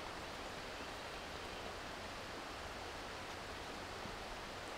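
A river runs through a quiet valley at a disc golf course, producing a faint, even, unbroken rush of flowing water with nothing else standing out.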